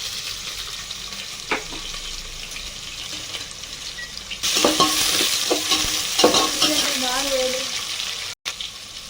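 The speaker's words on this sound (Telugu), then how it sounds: "ఉల్లిగడ్డలు వేసినాక బాగా కలుపుకోవాలి." Sliced onions frying in hot oil with cinnamon, cloves and cardamom while being stirred, a steady sizzle that swells as a spoon scrapes and clatters through the pan.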